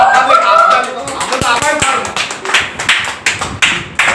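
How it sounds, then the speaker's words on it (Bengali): Several rapid hand claps ring out over a lively, noisy room, with sharp slaps scattered irregularly toward the end and chatter in the background. "হাততালি মারছে"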